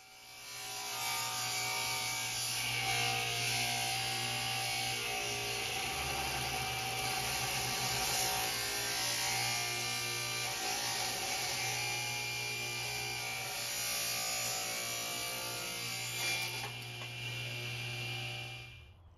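An electric hand planer shaves and smooths a wooden table leg, giving a steady, loud motor whine with rough rasping cut noise running nearly continuously for the whole stretch, close up and alone.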